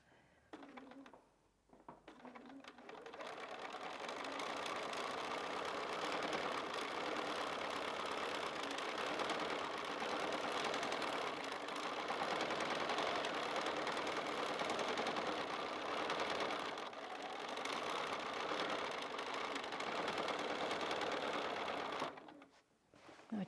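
Free motion quilting on a sewing machine gives a continuous fast whirring stitch that runs steadily for about twenty seconds, starting and stopping abruptly, with brief quiet pauses at each end.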